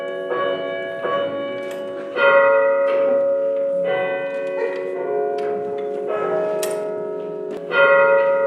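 Church bells ring in a Cork bell tower, heard up close as loud, resonant tolls in an irregular sequence, each strike sustaining and overlapping the next with shimmering overtones.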